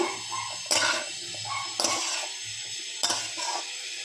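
A spoon stirs Gorkha chutney with lemon and tamarind water in a pan, giving three distinct scraping knocks against the pan over a faint background hiss, with no voices.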